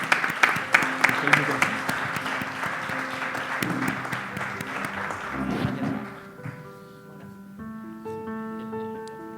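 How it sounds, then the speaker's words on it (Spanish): An audience claps loudly for several seconds, the applause gradually thinning out as music begins softly underneath. "Un aplauso para él."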